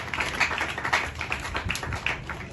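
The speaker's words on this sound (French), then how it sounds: "Sous vos applaudissements, s'il vous plaît." Audience applause at a graduation ceremony, steady mixed clapping from a crowd at moderate level, continuous throughout with no talk over it.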